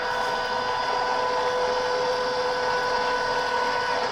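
A fabric cutting machine runs steadily with folded fabric fed through it, a constant mechanical whir and hum with a sustained tonal drone, close and unbroken, with no talking.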